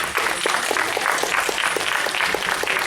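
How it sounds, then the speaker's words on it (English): An audience at a sci-fi convention applauds panel guests entering the stage, a steady round of close, crisp clapping with audible individual claps, lasting a few seconds. "Round of applause, please."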